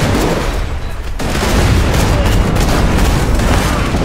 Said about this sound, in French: j'ai vidé mon sac à grenade